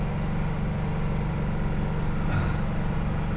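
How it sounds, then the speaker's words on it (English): A noisy generator runs steadily nearby, a loud, unbroken low-pitched engine drone with a constant rhythmic thrum from start to finish. "I'll be able to turn that noisy generator off"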